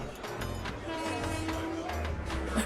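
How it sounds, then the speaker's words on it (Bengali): A train departing, heard as a steady, fairly loud rolling rumble with horn-like tonal sounds running through it and no pauses, a sound effect in a Bengali horror audio story. "ট্রেন ছাড়ল যথাসময়ে"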